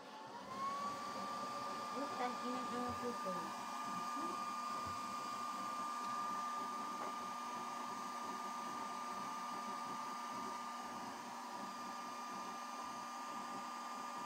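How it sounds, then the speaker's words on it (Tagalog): An electric blower fans a charcoal fire in a kerosene-style stove, giving a steady, loud whirring hum throughout with a constant tone, while people talk briefly under it. "Buksan mo natin ng blower konti lang,"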